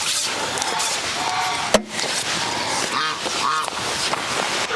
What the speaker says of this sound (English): The geese have found us now, as you can hear them.